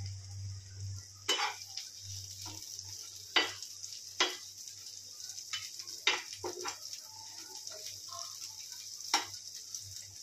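Onion sizzles softly in oil on a pan, with scattered scraping clicks of a spatula stirring at irregular intervals, fairly quiet and close.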